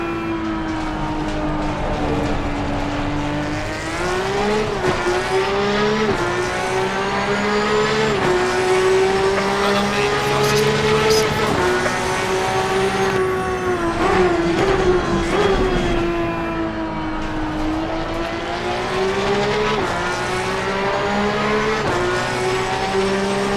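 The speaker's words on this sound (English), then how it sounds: "Hard on the brakes, trying not to overshoot." A Porsche 911 GT3 Cup racing at Donington Park in the ACC racing game, its engine wailing loud and steady, pitch dipping under heavy braking and climbing again on the throttle, with short tire squeal.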